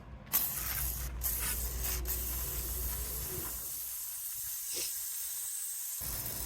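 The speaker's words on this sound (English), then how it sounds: "So here's the part where we spray the WD-40." A steady close aerosol hiss of WD-40 sprayed onto a motorcycle chain runs continuously for several seconds, with faint mechanical rubbing beneath it.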